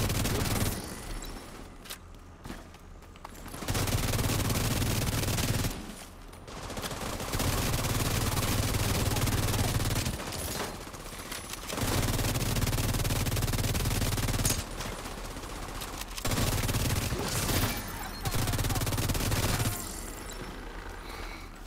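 An assault rifle in The Division 2 firing at 1,165 rounds per minute rattles out in long, very rapid, loud bursts lasting several seconds each, separated by brief pauses.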